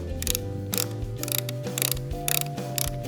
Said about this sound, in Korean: 고정 나사를 다시 고정하겠습니다.